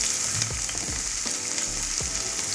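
Finely chopped onion frying in oil with cumin seeds in a pan, a loud continuous sizzle and crackle right up close, with a few soft stirring scrapes and no voices.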